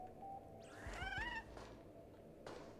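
A cat in the Honkai Star Rail video game lets out a short, rising meow around the middle of the moment, set over a steady low game ambience.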